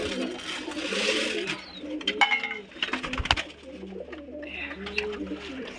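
Pigeons coo softly nearby while being fed wheat grains, with repeated low coos and some rustling and fluttering, plus faint background noise.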